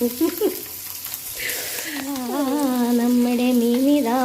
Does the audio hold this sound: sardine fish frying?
yes